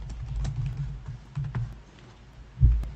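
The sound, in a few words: typing on a computer keyboard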